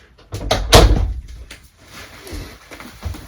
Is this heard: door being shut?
yes